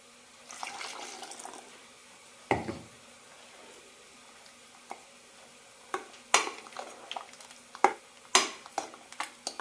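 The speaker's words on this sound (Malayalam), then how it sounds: "കറിക്ക് ആവശ്യമുള്ള വെള്ളം കൂടി ഒഴിക്കുക" Water is poured into a pot of simmering raw banana and horse gram curry, a soft rushing pour followed by scattered clinks and taps of a spoon or utensil against the pot, close and fairly quiet.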